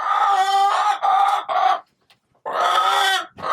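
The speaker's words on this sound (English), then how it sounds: "Here's Blue Ivy just being her loud self." A chicken in a shed coop squawks and clucks loudly at close range in long harsh bursts, with a brief quiet gap before one more loud call.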